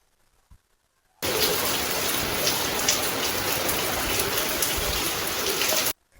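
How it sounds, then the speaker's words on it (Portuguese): Steady, heavy rain pours down outdoors, a dense, even hiss that cuts in abruptly, holds loud and constant for several seconds, then stops just as suddenly. "Uma pausa para mostrar que aqui tá chovendo muito."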